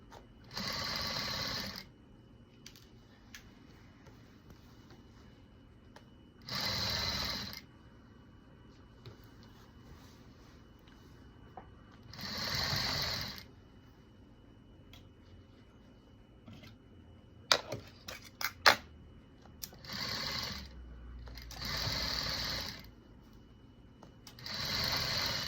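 Sewing machine stitching a tulle ruffle onto a prom gown in short bursts of rapid whirring, separated by quiet pauses and a few small handling clicks, close and fairly faint.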